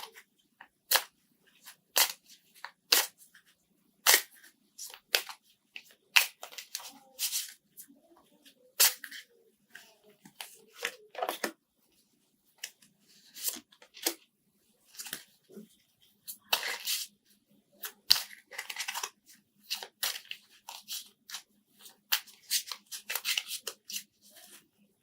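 Tarot cards shuffled by hand during a reading, a run of sharp riffling snaps and soft slides, close and fairly quiet, repeating in bursts with brief pauses and no voice.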